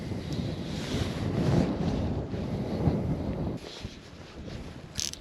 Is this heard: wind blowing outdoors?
yes